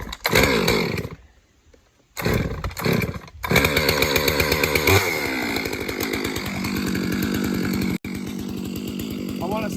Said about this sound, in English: Now, I'm gonna warm the saw up.